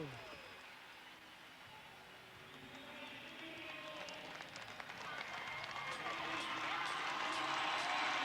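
A crowd roars at a 2001 X Games skateboarding contest in Philadelphia, a broad wash of cheering that swells steadily louder from a distant murmur into a sustained roar.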